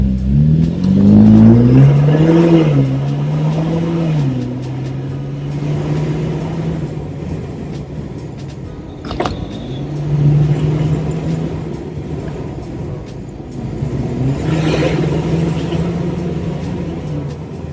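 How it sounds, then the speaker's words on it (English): A 2021 Jeep Wrangler's deep exhaust revs up and down several times, loud and close, with rumbling idle between the bursts. "Let's hear that exhaust note."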